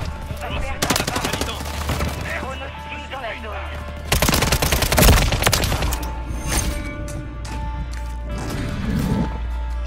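Rapid automatic gunfire and a grenade blast from a Modern Warfare 3 match: bursts of close, sharp shots rattle through, with a heavy crashing explosion around the middle and more firing after.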